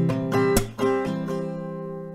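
Acoustic guitar chords strummed in a few quick strokes, each ringing out, then left to sustain and fade.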